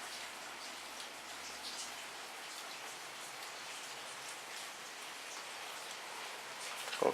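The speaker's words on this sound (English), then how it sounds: "Unfortunately it's raining this morning" Steady morning rain pours down in Beijing, a dense even hiss of drops on hard surfaces with no voices, ending in a brief louder clatter.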